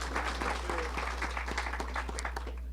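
Applause from a crowd at a ribbon cutting, steady clapping for a couple of seconds over a constant low electrical hum, with some voice mixed in.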